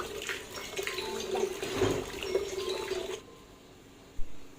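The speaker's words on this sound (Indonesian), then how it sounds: "Gula merah dan gula putih hingga larut di dalam air yang jumlahnya sebanyak 5 liter tadi. Aduk hingga rata" Brown and white sugar being stirred into 5 liters of water for bokashi fertilizer: close, busy sloshing and swirling for about three seconds, then the liquid quiets, ending with a single soft knock.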